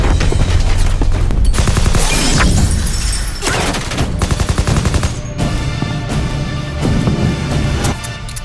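Rapid, loud gunshots from a Deadpool film scene, dense volleys and single cracks with impacts and shattering debris, continuous with no talk.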